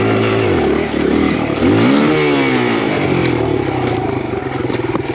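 A Kawasaki KLX140RF dirt bike revs hard while climbing a steep, soft hill, its close, loud engine rising and falling in pitch through repeated throttle blips.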